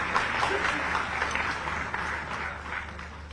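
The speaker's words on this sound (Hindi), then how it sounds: "तालियों के साथ स्वागत करें माननीय मंत्री महोदय का" At a Jharkhand government appointment ceremony, a large audience applauds in welcome of a minister, producing a steady dense wash of many hands clapping that continues evenly throughout.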